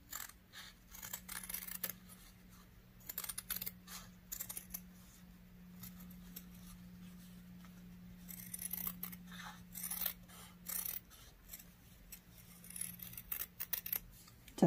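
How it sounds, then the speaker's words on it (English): Scissors snip through fabric for a quilt pattern piece in raw edge appliqué work, a steady run of close, crisp cuts and paper-like rustles with a low hum beneath, no talking. "Now we can cut our pattern piece directly on our line."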